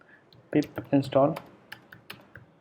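Keystrokes on a computer keyboard as a pip install command is entered: scattered crisp clicks at close range, partly under someone talking.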